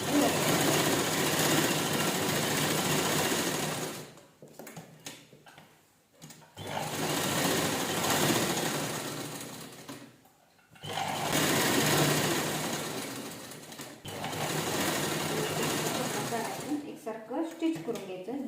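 A sewing machine whirs close by as it stitches fabric around a phone charging holder, running in three long steady bursts separated by short pauses.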